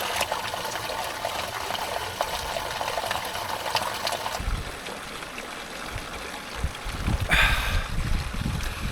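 Fresh spring water from a roadside spring beside a steep Slovenian climb runs in a steady, close trickle and splash, with a brief louder gush near the end.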